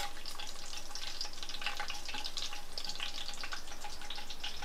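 Whole spices, star anise, cloves and caraway seeds, sizzle steadily in hot oil in a pan for biryani, a constant close crackle with no talk.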